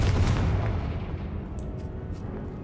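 A Confringo fire spell explodes in Hogwarts Legacy, one loud rumbling boom at the start that rolls off and decays, with small crackles trailing behind, no voices.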